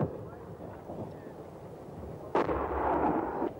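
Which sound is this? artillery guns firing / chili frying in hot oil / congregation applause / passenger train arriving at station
artillery guns firing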